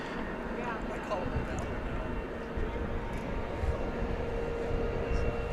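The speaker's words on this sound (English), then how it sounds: "a wide-bodied Trijet, which is about to move out" A wide-body trijet built in 1997 moves out at DFW Airport as a UPS flight bound for Louisville, giving a steady, broad engine roar at moderate distance with faint voices underneath.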